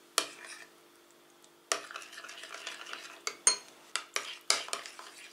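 A spoon stirs salt into a sour cream sauce in a bowl, giving a run of close, light scraping and clinking taps against the dish, sparse at first and then quicker and more irregular, with no talking.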